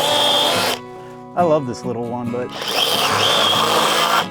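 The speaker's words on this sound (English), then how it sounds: "Small electric chainsaw to the rescue." A small electric chainsaw clearing a blocked trail buzzes loudly, pauses while a person speaks briefly, then resumes cutting at a steady high whine.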